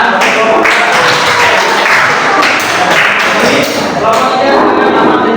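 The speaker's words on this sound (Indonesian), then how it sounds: "Oke, tepuk tangan." Applause from students in a middle school religious studies classroom, loud dense clapping close by, steady throughout with a few sharper taps.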